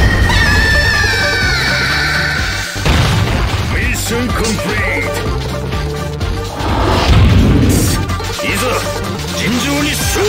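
A loud explosion booms in the Capcom vs. SNK 2 fighting game, crashing over dense game music and sound effects while in-game voices shout.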